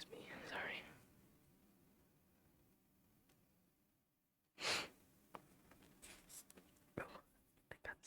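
A single sharp, breathy sneeze bursts out after a quiet stretch, followed by a few soft sniffs and faint rustling nearby.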